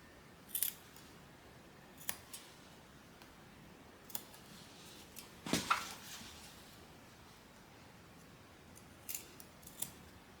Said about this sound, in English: cut like a wedge in our seam allowance on the corners